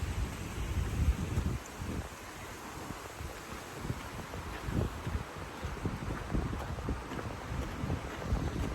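Gusty wind buffets the microphone in uneven, low rumbling bursts, with a faint steady hiss in the background.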